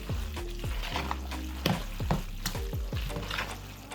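Cooked pasta being stirred through a jerk mac and cheese sauce in a pan, with wet squelching stirs and soft sizzling in an irregular rhythm, close and fairly quiet.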